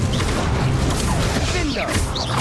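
The Incendio fire spell is cast during combat in the game Hogwarts Legacy, a whooshing magical blast heard within dense, busy battle noise.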